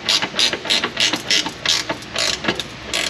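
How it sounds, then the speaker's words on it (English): A ratchet tightens a suspension adjuster, giving a fast run of close, loud metallic clicks in short repeated bursts, with no talk over it. "let's tighten up this one adjuster that I missed last on the last one"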